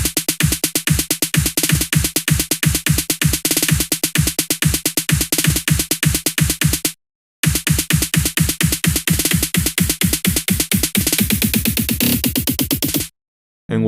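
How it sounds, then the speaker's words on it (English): Two layered trap snare drums in a fast, steady stream of crisp hits, loud and upfront, with a brief gap midway and a quickening roll near the end. "those two snares together sound like this"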